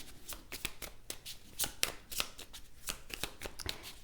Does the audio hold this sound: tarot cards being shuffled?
yes